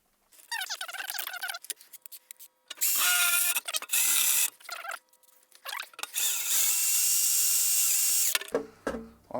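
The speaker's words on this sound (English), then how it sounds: "We're going to be drilling out that screw." A power drill whines in repeated bursts of varying length, stopping and starting as it drills out a screw in metal on a van step, close and loud.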